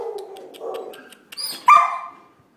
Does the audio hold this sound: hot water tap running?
no